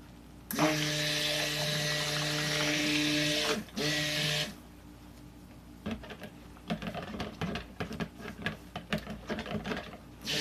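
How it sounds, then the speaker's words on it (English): A steady, high-pitched stick blender motor whir runs for a few seconds while emulsifying laundry bar soap, stops, briefly restarts, then gives way to scattered clattering and clinking. "We can just emulsify right up with the stick blender."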